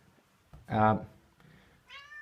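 A cat gives one loud, close, drawn-out meow, then a softer, higher meow a moment later, with quiet room sound in between.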